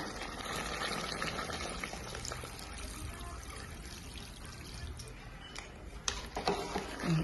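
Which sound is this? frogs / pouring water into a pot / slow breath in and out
pouring water into a pot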